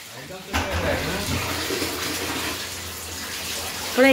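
Water runs steadily from a tap while a cat is bathed, a close, continuous splashing stream with voices talking intermittently over it.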